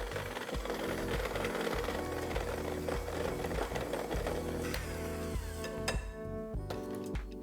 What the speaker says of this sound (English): grab your mixer and mix this again for 30 seconds to a minute, just until the cake batter is smooth